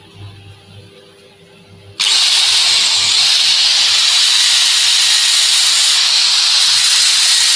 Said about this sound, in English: I'm switching the extractor on.